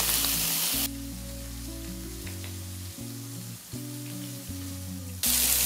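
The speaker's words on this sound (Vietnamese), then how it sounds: "Xúc xích cái kiểu này chiên có đẹp không nè." German and Hungarian sausages fry in a pan with a steady, close sizzle, accompanied by a continuous tonal hum and shifting background music throughout.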